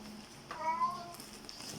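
A house cat gives one drawn-out meow that rises and falls, close and moderately loud, in a quiet room during a home composting session.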